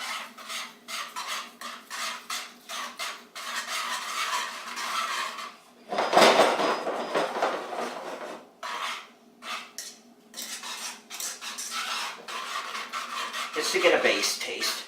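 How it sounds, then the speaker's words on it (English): A cheap wire whisk scrapes and stirs strawberry gummy candy mixture in a bowl, giving steady rasping, rubbing strokes that rise and fall, with a louder burst of brisk mixing midway; a voice speaks faintly in the background. "take my whisk, this is just my cheap whisk"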